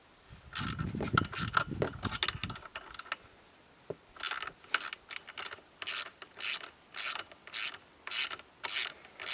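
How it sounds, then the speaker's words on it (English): Wrench ratcheting on nuts of a Husqvarna 65 chainsaw, a series of short clicking strokes in steady rhythm after some earlier rustling handling, close and fairly quiet. "you need an 8mm also to take off the nuts here"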